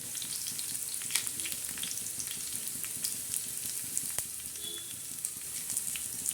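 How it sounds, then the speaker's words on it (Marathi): Whole spices sizzle in hot oil after onions are removed, for a chana dal rassa with black masala: a continuous bright frying hiss with occasional pops and light clicks, no speech. "आता हा कांदा बाजूला केल्यानंतर त्याच्यामध्ये प्रथम आपण खडा मसाला टाकणार आहोत"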